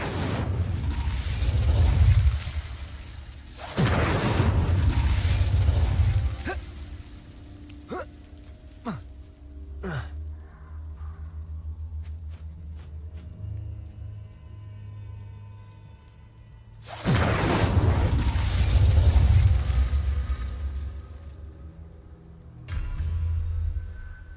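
Incendio fire spell cast in Hogwarts Legacy: loud roaring fiery blasts burst out in long heavy waves, separated by quieter stretches of game sound effects and clicks.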